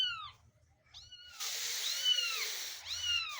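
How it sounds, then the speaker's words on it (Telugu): A cat meows several times in an attic, the calls thin and drawn-out with gaps between them, close by against a quiet, faintly hissing background. "చూడండి ఇలా ఉంది పిల్లి."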